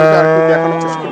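A single loud, close cow moo at a cattle market, a sustained low bellow that fades slightly toward the end.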